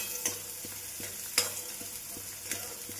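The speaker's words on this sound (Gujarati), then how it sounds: "આપણે ડુંગળીનો વઘાર કરી દીધો છે" Chopped onions sizzle and fry in hot oil in a home kitchen pan, a steady crackling hiss broken by a few sharp stirring scrapes, close and alone.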